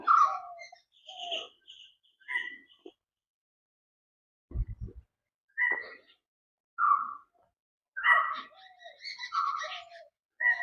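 Birds call in short, separate bursts at an old fort built against the Zamorin, against a quiet background, with a brief low thump in the middle and gaps of silence between calls.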